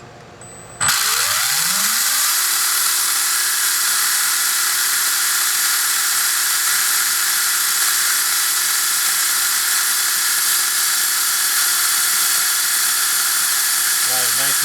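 An R1 Wurks V30 kicks on abruptly after about a second and spins at roughly 19,600 RPM, giving a loud, steady, high-pitched mechanical whine that holds unbroken to the end.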